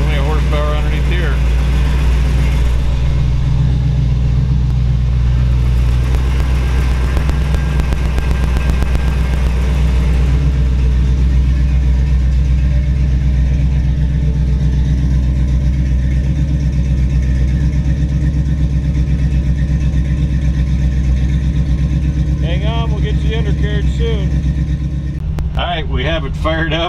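The 454 big-block engine of a 1956 Ford F100 hot rod runs in a loud, steady, deep rumble throughout, with a voice talking over it.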